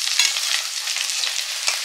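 Chicken pieces frying lightly in hot oil, a loud, dense, continuous sizzle close by with a couple of brief clinks, no voices.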